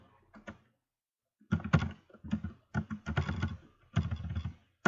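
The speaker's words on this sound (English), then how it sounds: "so type Capricorn in 1st house" Typing on a computer keyboard in a quiet room: clusters of close, crisp key clicks in quick irregular runs after a brief pause.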